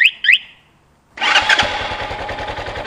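A 2019 Bashan Brozz 250 dual-sport motorcycle engine starts after two short chirps and a moment of quiet, then settles into a loud, close, steady idle with a rapid low pulse.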